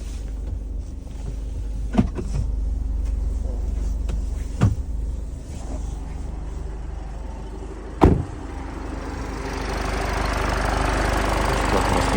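The 2.0 diesel engine of a 2014 Renault Koleos idles with a steady low rumble, a few sharp clicks and thumps over it, and no talking.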